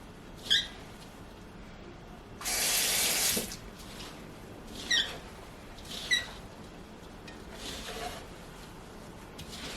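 Water is poured into potting soil for flower seedlings: one long, close splashing pour in the middle, with a few short bursts of water and handling noises before and after.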